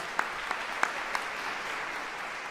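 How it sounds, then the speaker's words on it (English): An audience at a piano concert applauds steadily in a continuous wash of clapping, with a few sharper individual claps standing out, at moderate loudness and without talk. "Let's give them a round of applause."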